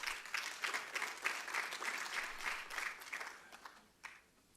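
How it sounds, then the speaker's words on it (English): A conference audience breaks into applause, a dense wash of many hands clapping at moderate distance that holds steady before thinning out and fading toward the end. "They are clapping, but they don't know what they are clapping for"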